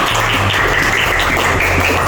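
Students in a classroom applaud together at the end of a lesson: a dense, steady wash of clapping that stays loud and close for the whole stretch, with no talk over it.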